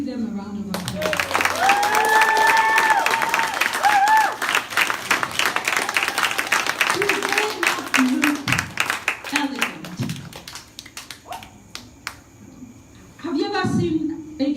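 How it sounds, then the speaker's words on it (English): Wedding guests at a Nigerian Sabbath wedding reception applaud and cheer for the newly married couple, a long burst of dense clapping with whoops that thins out, then a speaker's voice returns near the end. "Can we give them a round of applause?"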